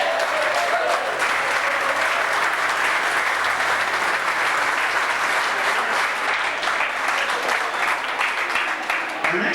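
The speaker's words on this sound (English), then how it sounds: "let's give a nice round of applause to one of the original good guys from KIOA" An audience at a rock and roll hall of fame induction applauds at length, a continuous, fairly loud clapping roar with some crowd murmur, sustained evenly from start to finish.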